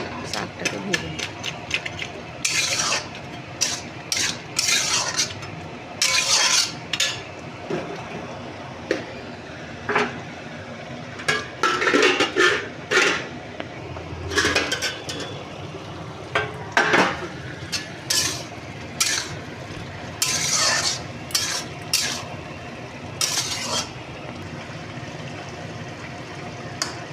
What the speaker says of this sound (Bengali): শাকটাকে ভেজে নেব।